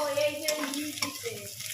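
Onions fry in a pan with a steady sizzle and the scrape of stirring, heard close and at moderate volume.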